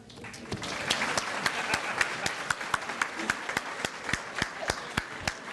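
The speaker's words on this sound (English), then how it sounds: "Another round of applause for a local leader and inspiration, Mr. Noah Griffin." An audience at an MLK awards event held by a county human rights commission applauds steadily, many hands clapping in a dense, sustained ovation with sharp individual claps standing out throughout.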